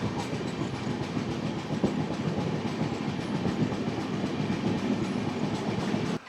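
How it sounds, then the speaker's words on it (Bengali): A Doon Express passenger train rumbles steadily along the rails after leaving Rafiganj station, with a continuous low roar and faint clattering, heard from inside a carriage for the whole stretch. "রফিগঞ্জ স্টেশন ছেড়ে ট্রেন বেরোলো যোগনগরী ঋষিকেশের উদ্দেশ্যে"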